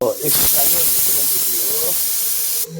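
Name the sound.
pressure cooker hissing steam while cooking mutton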